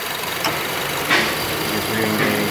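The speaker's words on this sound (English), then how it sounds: "The clutch is actually still spinning. I just disengaged." A Honda Civic engine idles up close with an A/C compressor clutch that cuts out intermittently, a steady mechanical hum broken by brief clicks and whooshes as the clutch disengages; a voice briefly speaks over the engine.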